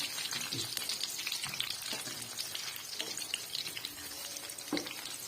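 Tomatoes sizzling in a hot pan while cooking pulao, a dense steady frying crackle with occasional stirring scrapes and small pops, close and continuous, no voices.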